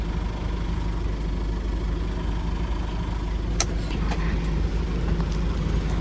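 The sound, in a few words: bus driving on a road in Sulawesi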